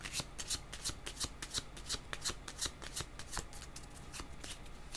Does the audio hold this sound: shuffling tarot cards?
yes